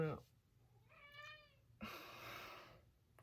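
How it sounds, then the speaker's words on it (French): A house cat lets out one drawn-out meow indoors, quiet and fairly close, followed by a burst of soft hissing noise, with otherwise still surroundings. "mon chat arrête pas de miauler"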